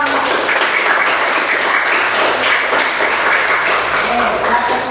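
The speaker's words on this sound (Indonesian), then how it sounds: "mari kita beri tepuk tangan" An audience claps together at an indoor gathering, a dense, steady patter of applause lasting about five seconds before it tapers at the end.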